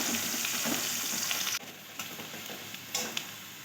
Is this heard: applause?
no